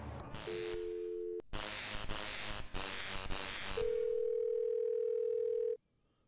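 A telephone in the Thimbleweed Park video game gives a brief steady tone, then a hissing noise burst, then a long continuous dial tone that cuts off abruptly at the end.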